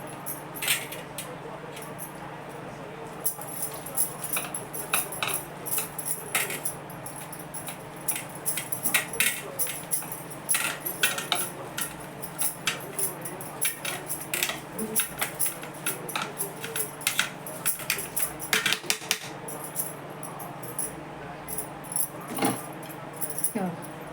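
Onion and green chilli are chopped on a board in a home kitchen. Quick, irregular knife taps repeat throughout at close range over a low background, with faint talk.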